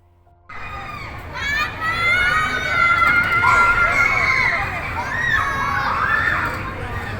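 After a quiet start, people on an amusement park ride erupt into sustained high-pitched screams and shrieks, continuing loudly for several seconds.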